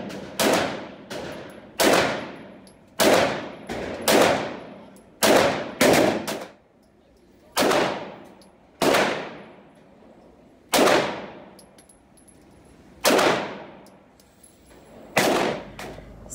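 Gunshots ring out at a shooting range from a first-time shooter, roughly a dozen loud, sharp cracks fired at irregular intervals of about one to two seconds, each with a brief echoing tail.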